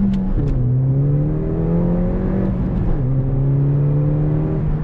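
A Ford Fiesta ST's tires spin on a cold road at freezing temperatures, a steady droning whine from the engine and wheels that rises slowly, dips, and climbs again with no talk over it.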